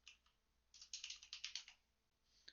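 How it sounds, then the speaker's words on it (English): Quick run of keystrokes typing a title on a computer keyboard, close and crisp, in a soft burst of clicks with a single stray tap just after. "and then you can type your title"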